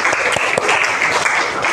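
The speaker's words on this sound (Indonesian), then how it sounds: "Oke, tepuk tangan." Classroom applause from students during a lesson, a dense burst of hand claps, loud and close, filling the short moment with a few sharper individual claps standing out.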